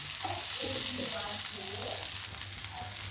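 Boiled potatoes frying in a pan until crisp and lightly browned, a steady broadband sizzle running throughout with a low background hum and faint murmuring voices underneath.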